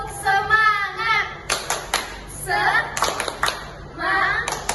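Children at a Sunday school class doing a rhythmic spirit clap, bursts of sharp hand claps in patterned groups alternating with children's chanting voices, close and lively.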